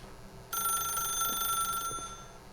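A telephone rings in The Stanley Parable, a bright electronic trill that starts suddenly and holds steady for about a second and a half before fading, with quiet game ambience around it.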